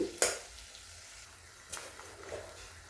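Cooked rice goes into a pan of oily tamarind mixture with a low, faint sizzle and a few brief, soft scraping stirs.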